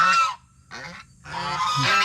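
Loud geese honking close by in three bursts of harsh, nasal calls separated by short pauses.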